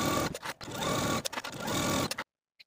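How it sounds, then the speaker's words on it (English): A sewing machine edge stitches fabric close to an inner fold, running in two bursts of steady mechanical whirring with a brief pause between them, then stopping. "take it to your sewing machine and edge stitch close to that inner fold all the way across"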